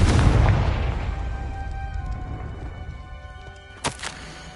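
A Confringo blasting curse bursts loudly up close in Hogwarts Legacy, its boom fading through a long rumbling tail, followed by a couple of small sharp pops.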